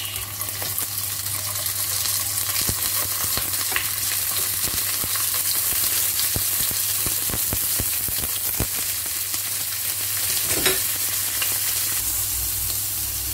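Fish sizzling steadily in a hot pan for fish soup with carrots, a loud continuous frying hiss with scattered pops and crackles throughout, no talking.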